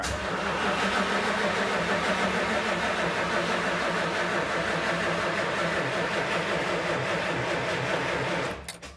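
A 1964 Imperial Crown with a weak battery and fuel delivery trouble cranks over steadily, the starter churning in a rapid, even rhythm for about eight seconds without catching, close and loud, then cutting off abruptly.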